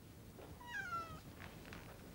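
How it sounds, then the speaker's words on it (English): A cat mews once, a short faint falling meow in a quiet room, heard alone over a soft low background hush. "I had a distinct impression I heard a cat mewing, either in this room or very close at hand"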